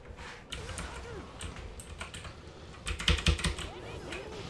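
Computer keyboard keys clicking in quick irregular bursts during a Tales of Berseria gaming session, close and fairly soft, with a denser flurry of presses near the end over faint game sound in the background.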